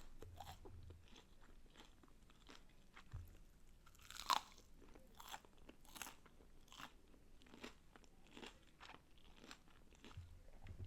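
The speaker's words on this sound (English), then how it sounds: "If you don't like chewing, I'm sorry, but I'm not, cause this shit is good" Close-up crunching and chewing of crispy Popeyes fried chicken nuggets: repeated sharp bites and wet mastication at an even, unhurried pace, with no talking.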